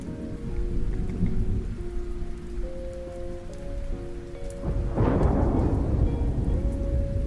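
Steady rain patters under a soft, sustained tonal hum, then a deep rumble of thunder rolls in halfway through and the downpour grows heavier.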